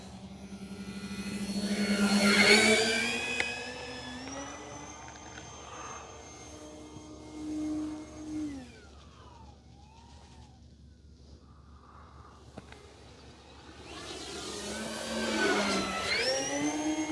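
An electric E-flite Beechcraft D18 RC model twin takes off from a rough hillside spot, its motors rising to a loud, whining whir as it climbs away, then fading and swelling again as it passes close by.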